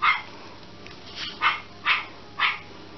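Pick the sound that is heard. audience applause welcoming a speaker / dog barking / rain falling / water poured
dog barking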